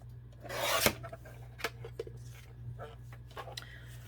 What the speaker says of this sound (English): I think I need to trim a little bit more off this side.